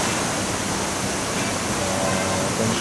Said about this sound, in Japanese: あれが黎明の滝っぽいっすよ。